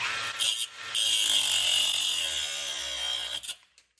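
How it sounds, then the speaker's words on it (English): A power tool trims about a quarter inch off a screw while running-boards are fitted to a 1967-1972 GM truck. The steady, high buzzing grind lasts about three seconds after a couple of brief starts, then cuts off abruptly. "So I'm going to trim about 1/4 inch off this screw."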